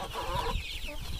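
Chickens clucking close by in a short burst, with soft overlapping calls from several birds outdoors on grass.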